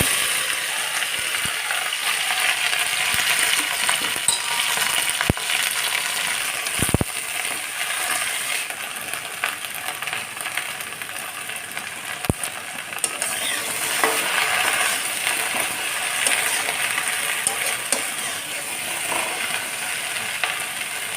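Okra frying in hot oil with panch phoron and dried red chillies, a steady crackling sizzle running the whole way through with a few sharp clicks and pops, no talking.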